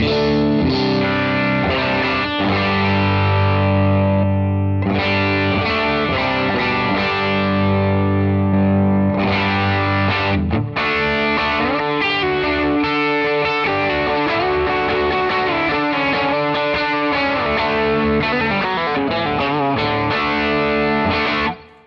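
Overdriven electric guitar through a Fractal FM9 modeler plays sustained chords and riffs, loud and continuous, with a brief pause near five seconds before the crunchy, gritty tone continues.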